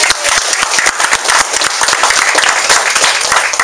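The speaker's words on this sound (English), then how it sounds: "Give Janice a big round of applause" Dense, steady applause fills the room from a meetup audience in San Bruno, loud and sustained with many overlapping claps and no voices.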